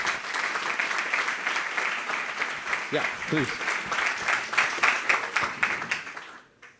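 Applause from a panel-discussion audience fills the room at moderate loudness, brief spoken words cutting through midway before the clapping fades out at the end.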